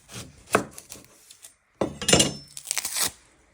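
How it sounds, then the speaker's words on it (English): A knife chopping the end off an onion on a cutting board, with two distinct bursts of close, crisp cutting thuds separated by a short pause. "You're first going to chop your end off."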